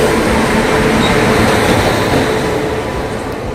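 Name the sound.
Humsafar Express train accelerating fast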